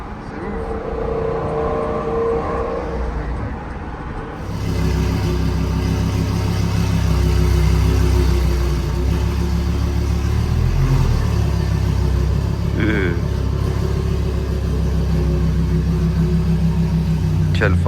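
A Lamborghini Huracán STO's engine roars loud and close after a quieter start, a sustained deep rumble with rising revs and a brief higher whine near the end, while people talk over it.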